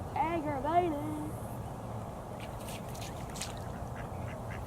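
A few nearby ducks quack in a short burst near a fishing spot by the water, then give way to steady outdoor background noise.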